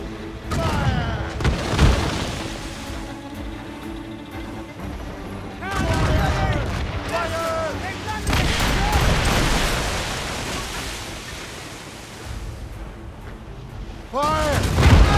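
Naval cannons fire from a sailing ship in Assassin's Creed Rogue in repeated heavy booms spread across the sequence. Shouted crew orders and battle noise rise and fall between the blasts, with a louder boom closing it.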